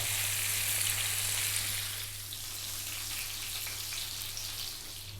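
Pieces of rohu fish sear in a frying pan with a constant crackling sizzle, louder at first and then settling a little. A low steady hum runs underneath.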